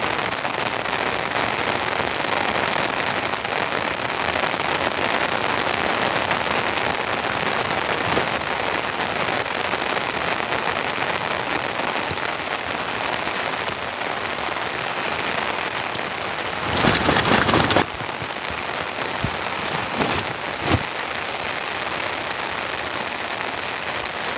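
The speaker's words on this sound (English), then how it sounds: "This is a cold rain." Cold rain drums steadily on a camping tent in winter storm conditions, a dense, close hiss throughout with a brief louder gust of patter near the end.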